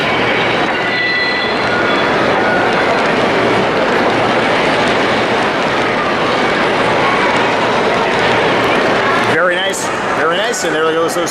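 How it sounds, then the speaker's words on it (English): Model steam engines run along a large layout at the Great Del Mar Train Show, a steady rolling rumble under continuous crowd chatter with a brief burst of nearby voices near the end. "And there goes those steam engines that way."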